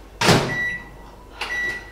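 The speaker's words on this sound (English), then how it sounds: "Put in the microwave for 4 minutes." A microwave oven heating a unicorn cup cake mix: a loud thud as the door shuts, a steady beep, then a second clunk and beep as it starts up at close range.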